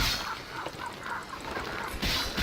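Birds honk like geese or ducks in a few short, scattered calls at moderate distance over a faint background bed in Vampire the Masquerade: Bloodlines.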